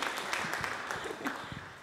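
Scattered applause from the audience at an award ceremony concert for a young performers' competition, fairly faint and uneven, with individual claps standing out over a soft crowd bed.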